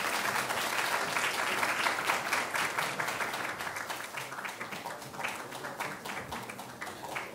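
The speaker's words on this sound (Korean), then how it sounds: "디자인상입니다. 큰 박수 부탁드리겠습니다." Sustained, dense clapping fills an auditorium as the design prize winner is honoured at the closing ceremony of a university presentation contest, tapering slightly toward the end with no voices over it.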